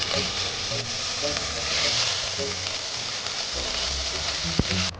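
Ginger paste sizzling in hot oil left over from frying potatoes, a steady close crackle and hiss that runs unbroken under faint stirring, with one sharp tap near the end.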